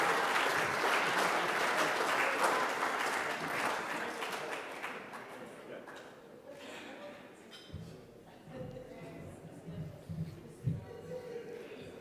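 Dinner audience at a 2023 forum applauding a speaker: dense, loud clapping for several seconds that gradually thins out and fades, leaving scattered claps and murmured voices toward the end.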